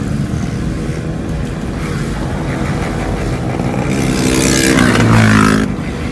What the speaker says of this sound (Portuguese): Olha isso aí, é moto pra caralho!